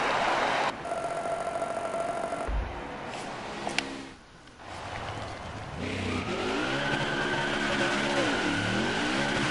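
Race car burnout in NASCAR Heat 4 at Pocono: loud, continuous engine roar with tire squeal and revving, a brief dip midway, then sustained wailing engine and skidding tires as the car spins.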